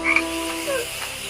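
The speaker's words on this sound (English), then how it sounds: "The room filled with croaking and hissing" Frogs croak loudly in an animated story, a few rising and falling calls over a dense chorus, with no talking.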